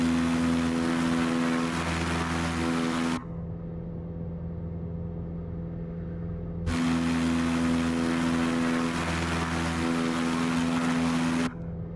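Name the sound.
Super Decathlon airplane engine in Microsoft Flight Simulator 2020 video game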